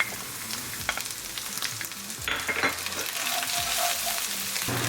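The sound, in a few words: ginger and garlic frying in oil in a karahi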